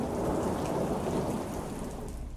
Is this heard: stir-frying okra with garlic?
no